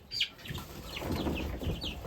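A naked neck silkie chicken, a bantam cross, flaps its wings in a short burst as it escapes, the soft fluttering close and moderately loud with no talk over it.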